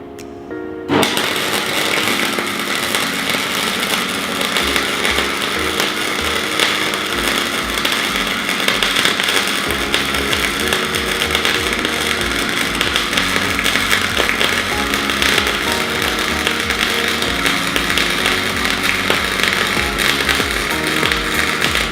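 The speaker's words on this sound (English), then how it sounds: "We'll attempt to weld the internal side of that." Welding the inside of an off-road vehicle's rear bar, a continuous loud crackling hiss that runs steadily for about twenty seconds, close and alone.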